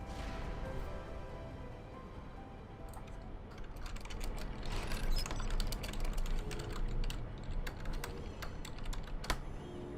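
Rapid clattering keystrokes on a computer keyboard, dense and continuous, growing busier and louder midway, close and without speech.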